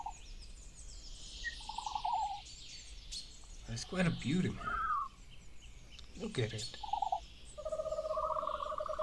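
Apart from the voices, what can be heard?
Dilophosaurus call in a Jurassic Park analog horror video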